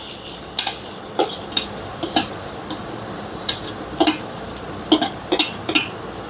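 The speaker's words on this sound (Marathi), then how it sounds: "तेलामध्ये चांगला कांदा परतवून घ्यायचा आहे आपल्याला" Onion frying in ordinary hot cooking oil in a pan gives a soft, steady sizzle, broken by sharp metallic clinks of a spoon stirring against the pan every second or so.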